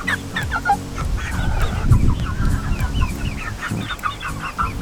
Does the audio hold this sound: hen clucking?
yes